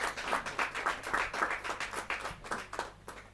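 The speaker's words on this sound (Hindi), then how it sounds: "जोरदार ताली के साथ।" A live audience claps at a Hindi poetry gathering, a kavi sammelan, in a burst of close, uneven applause lasting a few seconds.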